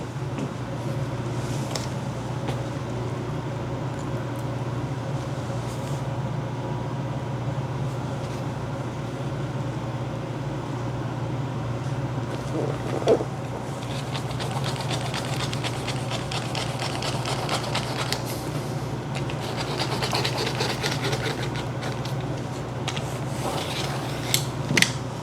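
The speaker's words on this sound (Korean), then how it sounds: "요거 한 번만 더 잘라 놓을게요." Apron fabric being cut at a worktable: steady rubbing and rasping cuts with a few sharper snips, close and moderately loud over a constant low mechanical hum, with no talking.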